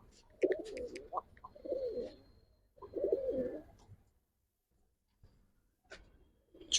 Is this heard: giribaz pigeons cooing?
yes